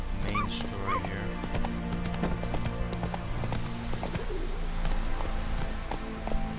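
Hooves of the horse Roach clop in The Witcher 3 game, with a short neigh near the start over rhythmic footfalls and game ambience, while a voice speaks briefly.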